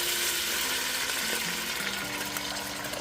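Liquid and meat juices poured into a hot pan of beef stew, a steady broadband sizzle and bubbling that runs continuously and close, gradually easing slightly as the pan cools.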